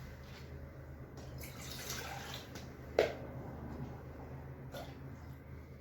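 Water runs into a medium-sized pot on a kitchen stovetop as ramen broth is started, a soft, steady splashing pour that stays faint under room noise.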